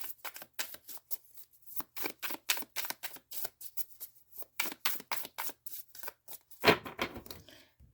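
Tarot cards being shuffled up close, a fast series of crisp riffling flicks in quick bursts.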